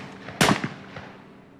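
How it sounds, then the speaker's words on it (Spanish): A single loud, sharp blank gunshot from a reenactment of a 1936 attack, followed by a short echoing decay and nothing else. "dispararon del cuartel."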